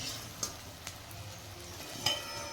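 Green chillies frying in a pan for sabbakki menasinakai, a soft steady sizzle with a few sharp clicks and scrapes of stirring, close and fairly quiet.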